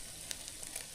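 Onions frying in a pan over a fire as garlic, ginger paste and tomato are added, a faint steady sizzle with a few brief crackles and pops, no voices.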